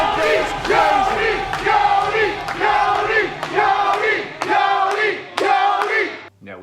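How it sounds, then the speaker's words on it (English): A crowd at a live Schmoedown competition event roars and yells in rhythmic bursts, loud and close, with a few thumps, after a former two-time champion returns to the table. "Oh, the crowd goes crazy!"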